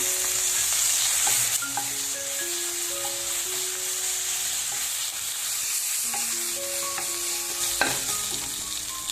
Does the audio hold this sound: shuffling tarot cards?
no